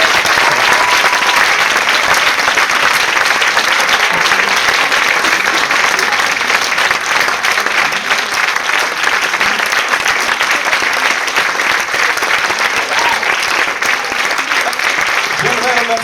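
Sustained, loud applause from a school audience for high school performers at a student concert, dense clapping continuing steadily throughout with some crowd noise.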